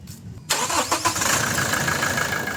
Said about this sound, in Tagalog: Pa-start ko na nga itong makina para magkaalamanan na.